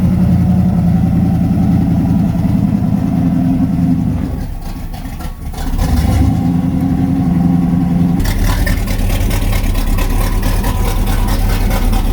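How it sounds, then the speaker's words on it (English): A small-block Chevy engine with no exhaust fitted idles loud, raw and unmuffled, a continuous low rumbling throb heard up close, with a brief dip midway before it settles back. "Here's what it sounds like idling from the rear quarter panel."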